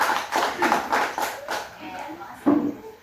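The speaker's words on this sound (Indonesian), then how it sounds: "Oke, tepuk tangan untuk kelompok 2." A handful of people in a classroom clap for a student group in a short, rhythmic burst, the claps mixed with voices and fading after a few seconds.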